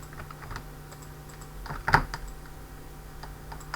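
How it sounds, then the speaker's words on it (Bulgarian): Keys clacking on a computer keyboard in quick, irregular bursts, close and fairly quiet, with one sharper louder strike partway through and no talking. "Ай, искал да напиша Хакчо"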